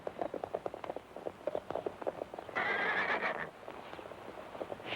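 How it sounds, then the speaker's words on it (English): Pack horses whinny loudly in a sustained burst amid a steady rhythm of clip-clopping hooves, fairly close. "That could be them. They got pack horses."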